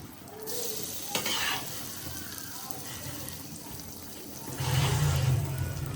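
Fried vegetables are tipped into a pot of rice, producing a soft sizzle with scraping and stirring, a sharp clatter early on, and a louder burst of frying toward the end.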